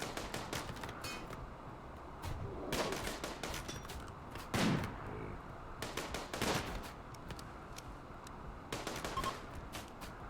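Gunfire from the video game Rimworld: repeated bursts of shots spaced a second or two apart over a steady low background hum, distant and fairly faint, with no talking.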